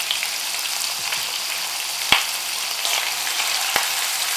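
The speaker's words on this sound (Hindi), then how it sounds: "और इसे थोड़ा भूनेंगे चला के।" Ginger garlic paste with tomato paste and three kinds of red chilli sizzles steadily in a hot pan as it is stirred, with two sharp utensil knocks against the pan partway through. No one talks.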